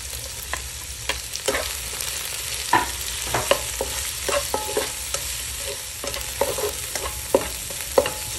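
Onion and garlic sauté in a pan for a home-cooked sponge gourd and string bean dish, a constant hiss of frying under repeated scrapes and clinks of a spatula stirring against the metal, close and without talk.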